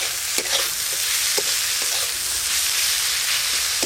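Spices and salt being stirred into egg curry in a pan on a clay stove, with a steady sizzling hiss and intermittent scraping strokes of a spoon, close and continuous.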